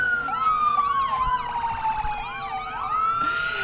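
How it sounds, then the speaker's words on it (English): Sirens from a Sprout Lake Fire Department fire truck in a fall fair parade, a loud wailing tone sweeping up and down continuously with yelp-like warbles layered over it, close by and steady throughout. "riding in a fire truck, having all the sirens and lights on"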